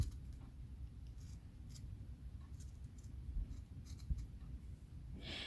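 Scissors cutting through a sponge for a Christmas craft, faint soft snips and crunches repeating irregularly over a quiet room hiss, with no talking.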